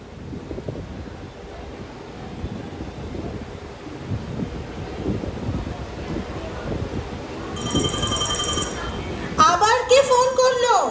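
Within a Bengali audio drama, talking voices give way to a telephone that starts ringing near the end, its bright electronic ringtone pulsing loudly over a soft background hiss.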